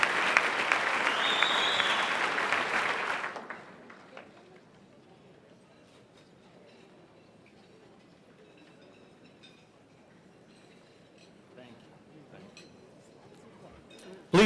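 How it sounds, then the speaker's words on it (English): Loud applause from a banquet audience at a Salute to Women in Leadership gala, a dense burst of clapping that fades away after a few seconds, leaving quiet room tone and faint murmurs. "So please join me in giving them a big round of applause and thanks."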